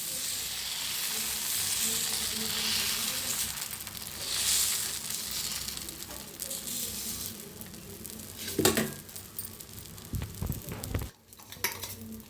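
Dosa batter spread in a circle on a hot pan gives a continuous, close sizzle, with scraping and clinking as a utensil spreads it and works the pan.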